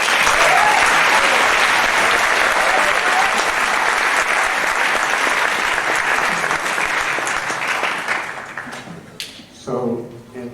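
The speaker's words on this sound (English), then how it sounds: "big round of applause" A concert audience for a Middle East music ensemble breaks into loud, dense applause. The clapping holds strong for several seconds, then fades and gives way to a voice speaking at the end.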